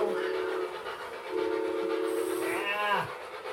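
A toy train blows its whistle in short, tonal toots, close and fairly loud, with a faint chirp near the end.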